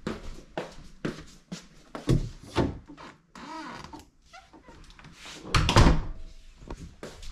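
A door that was not sitting flush in its frame in a windy overseas residence is pushed shut, with several close thumps and rattles leading to a heavier bang.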